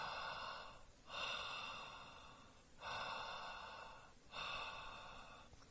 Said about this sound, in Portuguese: eu destapo as narinas e continuo respirando como se tivesse tapado as narinas